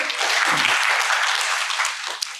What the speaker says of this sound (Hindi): फिर भी इन सब के लिए जोरदार तालियां